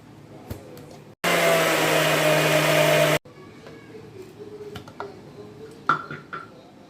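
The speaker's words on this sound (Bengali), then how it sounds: "মিক্সিতে পেস্ট করে নিচ্ছি।" A mixer grinder whirs loudly for about two seconds, blending watermelon into a paste, a dense steady roar that starts and stops abruptly amid quieter kitchen clatter before and after.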